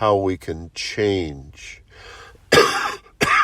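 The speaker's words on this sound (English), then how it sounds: "I'm getting ready to do some coughing" Someone speaks briefly, then gives two harsh, loud coughs close to the microphone.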